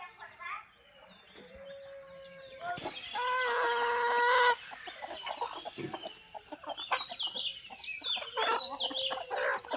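Free-range country chickens cluck and squawk while eating, several birds calling close by in uneven bursts, with someone talking intermittently over them.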